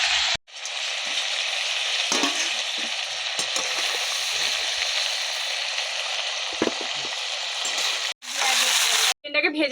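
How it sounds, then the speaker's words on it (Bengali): Chicken fries in hot oil with a loud, continuous crackling sizzle close by, broken briefly by a couple of short gaps. "চিকেনটা কালার চেঞ্জ হওয়া অবধি চিকেনটাকে খুব ভালোভাবে ভেজে নিয়েছি"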